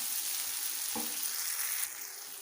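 Okra masala frying in a pan, a steady hissing sizzle at moderate level with a single brief clink of a utensil partway through, then a slight drop in intensity.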